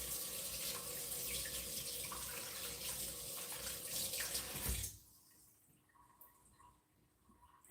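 Tap water runs steadily from a kitchen faucet while fresh garden beets are rinsed under it, a loud continuous splashing that cuts off abruptly about two thirds through, leaving a quiet room with faint drips.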